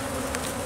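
Honey bees buzzing densely on a heavy, honey-loaded hive frame, a continuous close-up drone with no pauses.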